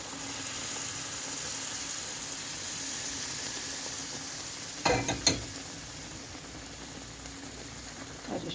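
Semolina and flour halva stirred in a hot pan, giving a steady close sizzle with a couple of sharper scraping clacks from the spoon midway. No voices.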